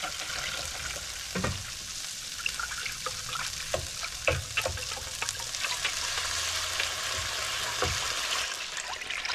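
Meatballs frying in a pan, a steady close sizzle with bubbling crackle and occasional knocks from a utensil shifting them, no talking.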